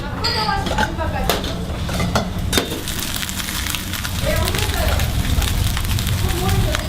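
Busy bibimbap restaurant kitchen in Jeonju, Korea, with pots, pans and cutlery clattering and scraping continuously under steady background noise, with people talking throughout.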